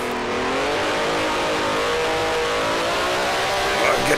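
A 1968 Grand Prix race car engine in the Grand Prix Legends sim racing game drones loudly and steadily at high revs, its pitch slowly climbing as the car accelerates, close and continuous throughout.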